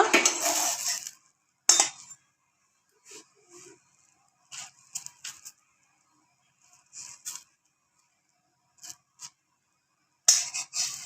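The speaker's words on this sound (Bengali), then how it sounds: "এখন আমি এভাবে খুন্তি দিয়ে ভাঁজ করে উঠিয়ে নেব।" A metal spatula scrapes and lifts a thin paper pitha off a pan in short separate clinks and scrapes, with brief bursts of sizzling at the start and end, otherwise quiet.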